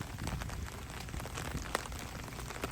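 Rain falls at a collegiate golf tournament, a steady soft patter of drops on surfaces with scattered sharper ticks, heard alone without talk at fairly low level.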